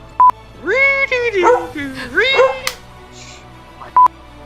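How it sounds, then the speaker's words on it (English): Big dog howling and yelping along to a song played on a phone, rising and falling wails close to the mic, framed by two short electronic beeps. "every time it would play on my phone, Rocko would start howling"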